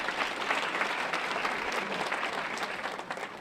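Audience applause in a conference hall in Las Vegas during a live demonstration, a steady dense patter of many hands filling the room, loud and continuous with no talk over it.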